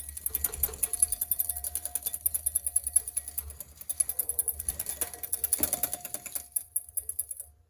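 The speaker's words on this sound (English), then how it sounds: "we are going to whisk that until it breaks up a little bit" A whisk beats an egg yolk in a bowl for hollandaise, making fast, regular tapping and scraping strokes close by with no talk.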